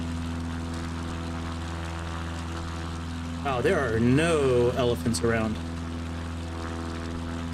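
Steady droning hum of a propeller airplane engine in a video game runs evenly through the whole stretch while someone speaks briefly over it in the middle.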